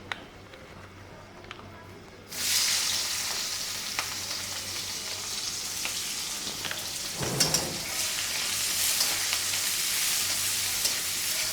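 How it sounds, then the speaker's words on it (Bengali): Onions hit a pan of spiced chicken, and a quiet room suddenly fills with a loud, steady sizzle that keeps crackling close by, with a brief stirring scrape midway. "পেঁয়াজ দিয়ে দিচ্ছি।"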